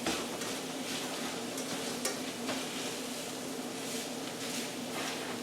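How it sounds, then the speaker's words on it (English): A Spam mixture sizzling steadily in a hot pan as it is stirred, with soft scraping and clinking of a utensil against the pan, close and continuous. "you got your Spam and everything all mixed up and cooking in here"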